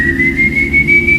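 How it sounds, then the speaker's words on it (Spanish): One steady, sustained whistle held for about a second, clear and fairly loud over a low rumbling background, with no speech. "Escuché a lo lejos que alguien chifló."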